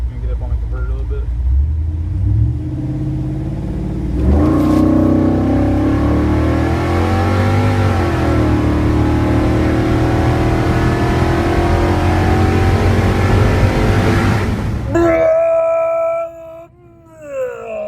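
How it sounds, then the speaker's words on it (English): A four-wheel-drive truck launches after a burnout on the street, its engine revving loud and hard, rising and falling in pitch for over ten seconds before cutting off abruptly, with a voice heard faintly. "He's filming for the passenger seat for our first four-wheel drive hit out on the street following our burnout."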